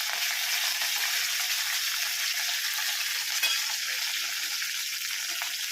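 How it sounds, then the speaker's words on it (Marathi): Chopped green chilies and coriander frying in hot oil in a pan, a steady close sizzle that hisses evenly throughout with no talking. "ही छान अशी तळून घेणार आहोत."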